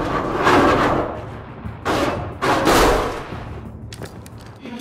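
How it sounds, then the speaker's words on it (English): Gunfire in the Syndicate video game, a few sharp, loud bursts of shots clustered close together, then fading into lighter scattered pops amid a low background rumble. "Wait! Gunfire up ahead."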